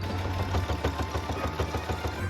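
A sewing machine stitches a ruffle onto a homemade dress, giving a steady, fairly quiet mechanical whir with fast regular stitching pulses and a low motor hum throughout, with no talking.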